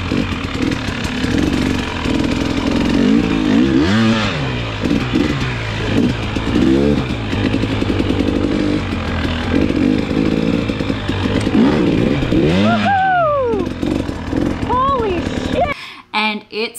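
A KTM 300XC two-stroke dirt bike rides over a launch-pad obstacle, its engine buzzing steadily and revving in rising and falling swells throughout, loud and close, before cutting off abruptly near the end.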